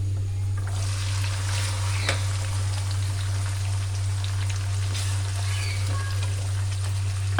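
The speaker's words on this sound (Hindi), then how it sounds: "इनको हम अच्छी तरह फ्राई कर लेंगे इस प्याज के अंदर।" Boiled chickpeas fry in oil with golden-browned onions, giving a steady, even sizzle and crackle over a constant low hum, with no talking.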